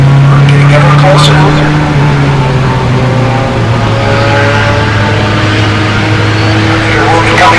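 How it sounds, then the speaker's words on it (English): Single-seater club race car at Mid-Ohio accelerating hard with rear tires spinning, a loud continuous engine drone rising in pitch, heard close over crowd-like ambience. "Spinning up the rear tires as he tries to accelerate."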